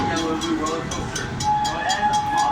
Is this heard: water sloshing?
no